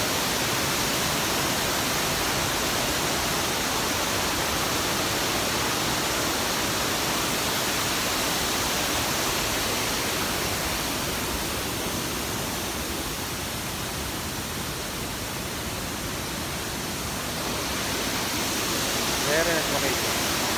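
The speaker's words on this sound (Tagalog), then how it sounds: "So that's the main falls." Vera Falls, a waterfall in Bicol Province in the Philippines, roars as a steady, loud wash of falling water that fills the whole scene without pause.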